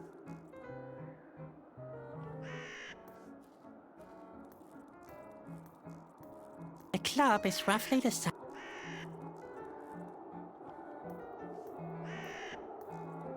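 Birds near a flower bed in the video game Whispered World give several harsh, crow-like caws at moderate volume, mixed with game music and a short burst of clattering, while someone talks over them.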